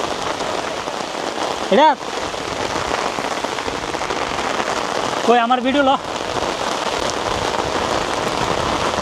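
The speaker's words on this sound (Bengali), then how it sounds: "গাইস, প্রচণ্ড পরিমাণের বৃষ্টি হচ্ছে, মানে অকল্পনীয়।" Heavy rain pours steadily in Narsingdi, a loud, continuous hiss of drops on surfaces that fills the whole stretch, with two brief moments of people speaking over it.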